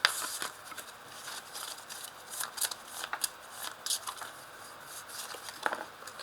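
Tarot cards shuffled and drawn by hand, a close series of crisp papery riffles and slaps with irregular rhythm, heard alone without any talking.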